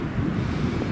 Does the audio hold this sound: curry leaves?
no